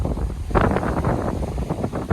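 Wind gusting outdoors among coconut trees, a steady broadband rush buffeting the microphone, swelling stronger around the middle and staying loud and close throughout.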